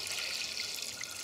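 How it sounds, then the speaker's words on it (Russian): Water left from blanching is poured into a marinade in a continuous splashing stream, a soft hissing wash filling a container. "Волью эту"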